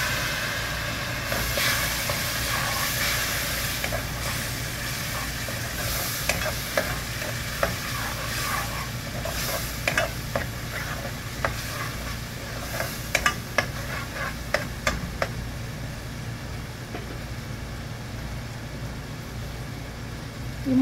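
A spice paste of chili and coriander powders with a little water is stirred and fried in a pan for prawns, giving a steady close sizzle with repeated scraping and clinking strokes of the spoon.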